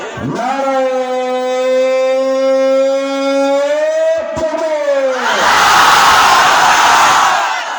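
At a Bangla Islamic sermon, a preacher's long, drawn-out takbir call is followed by a loud crowd roaring Allahu Akbar together, a dense, close wall of shouting voices.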